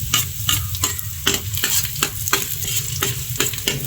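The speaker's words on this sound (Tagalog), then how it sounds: "Ready na tayong mag-gisa. Unahin natin ang ating bawang. Siyempre yung ating sibuyas." Garlic and onion sautéing in hot oil in a pan, a steady sizzle broken by regular scraping stirs roughly every half second, close and clear with no talk.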